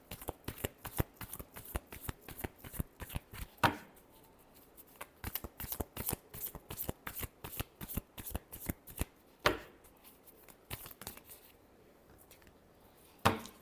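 Tarot cards being shuffled, a rapid run of crisp riffling flicks and slaps, close and loud, with short pauses where the deck is squared before shuffling resumes; no voices.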